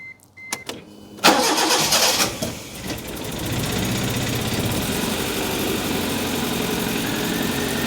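A Proton Wira car engine with a misfire and bad fuel cranks briefly, then catches and settles into a steady, rough running drone close by, with no voices.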